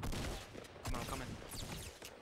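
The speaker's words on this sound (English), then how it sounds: "Dang, Sonic's pistol is so not accurate" Pistol fire in a video game shooter: a quick burst of sharp, crackling shots close up, loud and irregular, with no talk over them.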